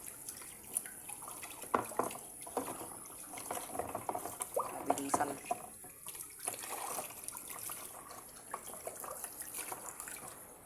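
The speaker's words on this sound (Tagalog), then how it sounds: "Masyadong malakas ng tubig." Strong running water from a tap splashes during washing, a steady hissing flow with irregular splashes and clatters close by, with no talk.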